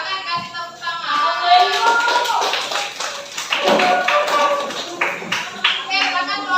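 A classroom group of students claps together during a lesson session, the patter blended with overlapping children's voices and chatter throughout.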